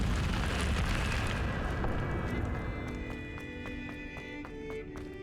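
An Incendio fire spell from Hogwarts Legacy erupts in a dense roaring whoosh that gradually fades, giving way to steady sustained tones near the end.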